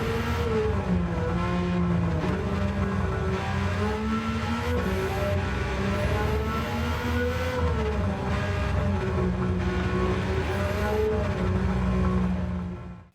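A Nissan R33 with its RB26 engine in Gran Turismo 7, loud and close, holding a sustained high-revving drone with rising and falling pitch sweeps as it shifts, running alone without talk.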